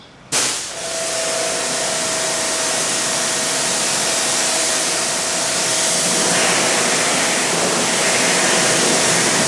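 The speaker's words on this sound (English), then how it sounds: "Let's go ahead and rinse." A pressure water spray rinses a car's lower panels after a snow foam shampoo, a loud continuous hiss that starts abruptly and holds steady throughout.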